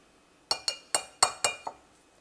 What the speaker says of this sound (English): we're going to whisk these together